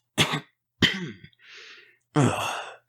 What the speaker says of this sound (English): The king coughs again while trying to speak.